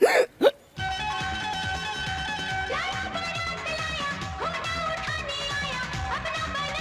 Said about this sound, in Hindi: नहीं, वही हिचकी है।